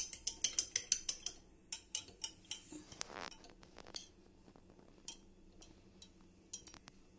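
A metal spoon stirs soaked saffron into thandai milk, making quick, close clinks against the vessel. A rapid series of strikes is followed by sparser taps and scraping, with no talk.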